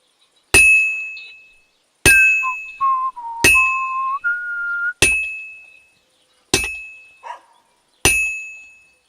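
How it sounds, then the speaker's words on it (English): An axe blade is worked on a grindstone in Kingdom Come Deliverance II, with six sharp ringing metallic clangs at regular intervals, some followed by a brief rising scrape-like whine. "So we're now going to sharpen the blade end."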